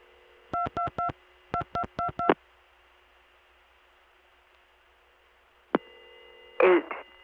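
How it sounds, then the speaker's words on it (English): Touchtone telephone dialing of a seven-digit number on an early-1980s trunk line: a quick run of evenly spaced DTMF beeps in two clusters, then a single tone and a short burst of line noise. "I'll dial a 7-digit number."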